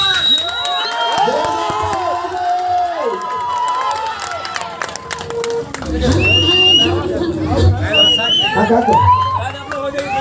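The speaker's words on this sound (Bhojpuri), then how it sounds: "तालियों का स्वागत" A crowd at a devi jagran in Bangalore cheers and shouts to welcome a singer, with scattered clapping, excited voices and children's shouts rising loudly through the second half over an amplified voice.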